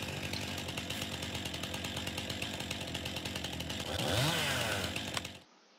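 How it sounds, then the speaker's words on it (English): A chainsaw in Farming Simulator 19 cuts through a signpost, a steady, loud buzzing whine that holds throughout, rises in pitch and strain near the end, then cuts off abruptly. "Cutting this signpost with a chainsaw will permanently remove all rocks from the maps."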